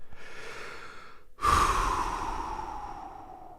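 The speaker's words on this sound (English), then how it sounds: "Exhale out." After a short pause, one long, close exhaled breath comes through the mouth and fades slowly, following a softer stretch of breathing.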